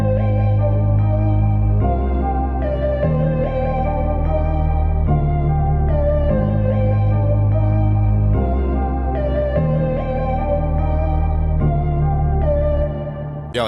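A hip-hop beat layers a lead melody, a counter melody and a warm pad into a dense, loud loop, with low bass notes shifting every couple of seconds under steady keys, no voices.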